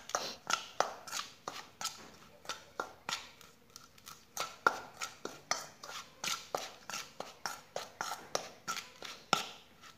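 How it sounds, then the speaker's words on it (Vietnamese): Strawberry-scented fishing bait is mixed by hand, giving a quick, regular run of soft slaps and squishes, roughly two or three per second, close and fairly quiet, with no talking. "Xong rồi các bạn trộn đều lên cho mình."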